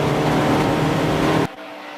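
Race cars in a club enduro at Silverstone GP, including TT TDI and BMW entries, with a loud close engine roar running nose to tail that cuts off abruptly near the end.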